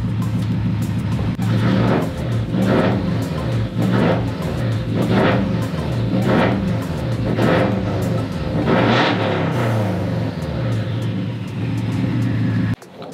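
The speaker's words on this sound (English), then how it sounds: "make sure you're revving up the car a little bit" A Subaru STI engine revs repeatedly while its cooling system is burped after a cylinder 4 cooling mod, a steady idle broken by about seven rhythmic rising revs, close and loud, with a short drop at the end.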